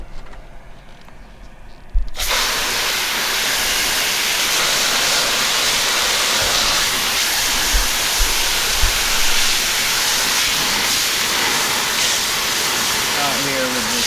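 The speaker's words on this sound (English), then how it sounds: "We're here to wash out another t-shirt for you." A strong stream of water gushes steadily while rinsing out a kaleidoscope tie-dye t-shirt, a loud continuous hiss after a quiet start, with occasional thumps and someone talking over it.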